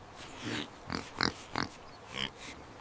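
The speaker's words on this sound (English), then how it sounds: "Oink, oink." Cartoon pig on a farm gives a series of short oinks and snorts, about five grunting bursts spaced irregularly and fairly close, with no talk over them.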